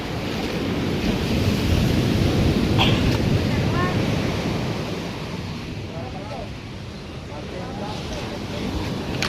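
Ocean waves and surf roll and wash steadily with wind buffeting the microphone, a continuous broad roar at sea with brief voices faintly audible beneath the water.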